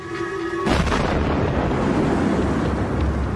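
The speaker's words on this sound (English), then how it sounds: "a moment of eerie silence precedes the sonic bang" Following a brief lull, a massive sonic boom from a comet air blast erupts and rolls into a continuous, deafening roar of wideband rumble that persists without letup.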